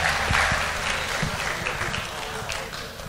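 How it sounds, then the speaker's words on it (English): An audience claps as comedian Hezekiah is brought on at a Nigerian comedy show, a short burst of crowd applause with low thumping and rumbling underneath that fades slightly toward the end. "Please, a round of applause for"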